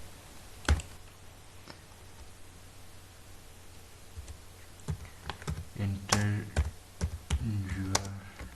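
Sparse clicks from a computer keyboard being typed on nearby, with scattered single keystrokes that grow busier toward the end over a faint hiss and a brief murmur of voice.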